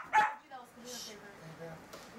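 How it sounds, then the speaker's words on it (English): Dogs bark and yip nearby in a few short, uneven bursts, one sharp bark standing out at the start and softer whimpering yelps after it. "I got all dogs barking on the camera now"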